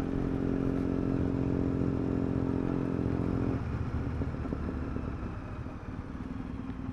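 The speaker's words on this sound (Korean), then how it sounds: "배기음이 너무 커서 제가 말을 잊었어요." The loud exhaust of an Indian motorcycle rumbles steadily nearby, a deep throbbing idle that eases slightly partway through and keeps a rough, pulsing burble to the end.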